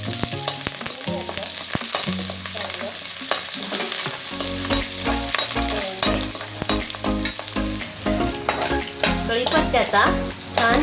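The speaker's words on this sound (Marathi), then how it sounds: "त्याच्यामध्ये हिरवी मिरची आणि कढीपत्ता तळून घ्यायचं" Green chilies and curry leaves fry in hot oil in a kadhai for Diwali chivda, a steady crackling sizzle that stays close and constant. A spoon stirs through it and faint music plays underneath.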